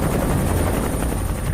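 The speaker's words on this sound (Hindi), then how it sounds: "मगर हेलीकॉप्टर जमीन पर उतरने से पहले ही जमीन पर यूं धम से गिरा।" A helicopter coming down toward the ground near Godhra produces a loud, dense, continuous roar of rotor and engine noise, steady and close throughout with no voices.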